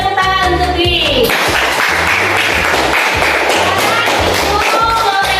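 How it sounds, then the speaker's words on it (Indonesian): A classroom group claps for a student in a steady patter of many hands, loud and close, continuing for several seconds while a voice speaks briefly at the start. "Tepuk tangan untuk Dwi."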